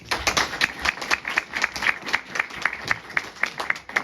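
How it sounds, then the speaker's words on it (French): At a Téléthon charity gathering in a French village, an audience claps in a quick rhythmic beat that is loud and close, with strong steady pulses throughout. "Et ça, on peut les applaudir et les remercier."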